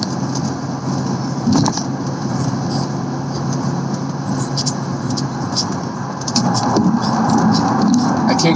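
A 1995 BMW 525i with an inline-six engine pulls along a New York City road, a steady mid-level engine hum with road rumble, rising slightly near the end, while someone talks over it.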